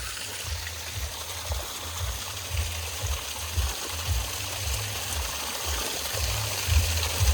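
Water from a roadside spring outlet on the way to the Churdhar trek in Himachal, a steady soft trickling stream with low rhythmic gurgling pulses underneath, close by and alone without talk.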